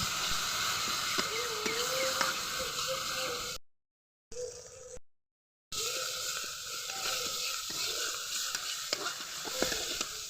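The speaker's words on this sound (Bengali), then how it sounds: "লঙ্কা গুঁড়ো, হলুদ গুঁড়ো, জিরে বাটা, আদা বাটা, লবণ দিয়ে মশলাগুলো ভালো করে কষে নেব।" Ground spice paste of chili powder, turmeric, cumin paste, ginger paste and salt fries in hot oil, giving a steady close sizzle and hiss that cuts out briefly twice partway through.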